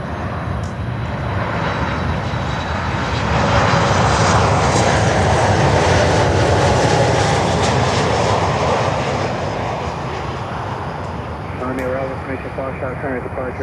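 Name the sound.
American Airlines 737-800 jet on approach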